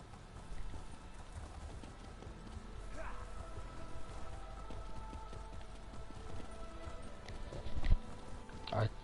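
Horse hooves clip-clop steadily in a video game, a moderate rhythmic patter with someone talking over it throughout.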